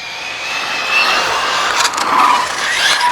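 Arrma Felony RC car on Method RC Velociter 1/7 tires running at full throttle, a close, loud, high-pitched electric motor whine that climbs and wavers as it passes and turns.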